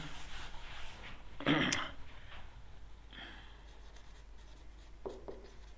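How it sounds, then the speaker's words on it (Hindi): Pen scratching on paper or a board during a biology lesson on plant parts, a short dense burst of writing followed by fainter intermittent strokes, close and without speech. "तो यहाँ पे ऊपर लिख देते हैं"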